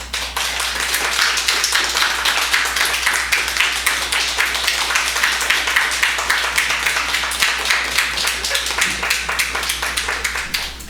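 Applause in a church during a certificate presentation at a Sunday service: steady, dense rhythmic clapping from a congregation, close and sustained for about eleven seconds.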